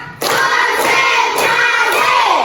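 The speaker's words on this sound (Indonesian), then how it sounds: "Tepuk satu, tepuk dua, tepuk tiga, tepuk empat," A classroom of children chants a counting rhyme in unison, marking each count with a sharp clap at a steady rhythm. The loud group voices carry between the claps.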